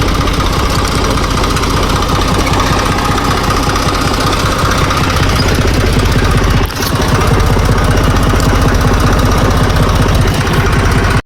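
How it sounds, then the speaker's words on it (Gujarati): A farm tractor engine runs loud and close, a steady rapid diesel chugging and knocking that holds an even rhythm throughout, briefly dipping once, with no talk over it. "તો હાલો હવે આપણે ઘડીક ટ્રેક્ટર હકારી નાખીએ"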